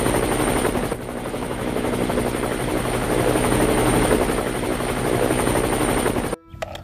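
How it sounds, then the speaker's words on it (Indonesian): Steady, loud rotor thrum of a military helicopter with a constant high whine, running nearly seven seconds before cutting off abruptly near the end. "ini helikopter tentara"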